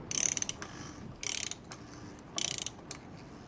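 Three bursts of rapid ratcheting clicks from a wrench undoing the oil filter housing of a 2002 BMW 320i, evenly spaced with short pauses between, close and fairly quiet.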